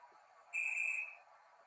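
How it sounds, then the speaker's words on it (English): Guard's whistle from a Hornby model train sound decoder, a single shrill steady blast lasting about half a second over a faint background hiss. "Guard's whistle."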